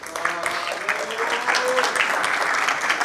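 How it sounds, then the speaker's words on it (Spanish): Audience applause for a guest speaker introduced at a tech startup talk, a steady dense patter of many hands clapping throughout, fairly close and full, with no talk over it. "Un aplauso para Mariano."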